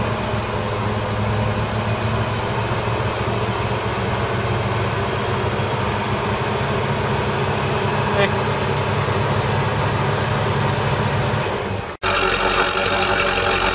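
A V8 engine running on petrol, a loud steady idle with a deep throbbing low rumble throughout, briefly cut near the end before resuming, with a voice talking over it.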